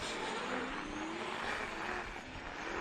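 A Formula Drift car driven by Nate Hamilton drifts through a qualifying run in Texas, a dense roar of engine and tire noise heard from a distance, steady and broadband with faint squealing tones.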